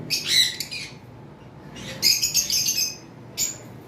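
A pet sun conure parrot lets out three harsh, shrill squawking bursts at close range, separated by short quiet gaps, with no talk.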